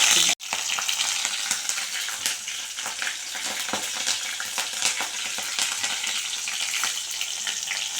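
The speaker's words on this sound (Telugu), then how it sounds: "ముందుగా నూనె వేసుకోండి ఆవాలు జీలకర్ర వేసుకోండి అలాగే కరివేపాకు" Mustard seeds, cumin and curry leaves hit hot oil in a pan, giving a loud, steady crackling sizzle with scattered pops that runs the whole time after a brief opening cut.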